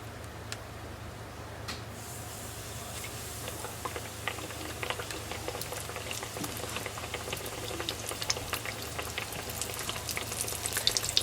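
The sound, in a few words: breaded green tomatoes frying in a pan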